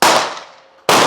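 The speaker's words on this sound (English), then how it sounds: "So first up, BDA9 mag in the HiPower." An FN BDA-9 magazine goes into a Browning Hi-Power pistol with a loud, sharp metallic clack that rings briefly and fades, followed by a second abrupt clack just under a second later.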